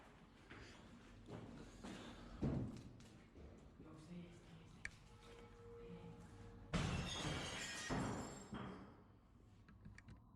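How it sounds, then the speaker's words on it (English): Glass shatters as something is thrown out a window, a sudden bright crash with scattering debris, preceded by muffled movement and voices. "The video cuts off with the sound of breaking glass"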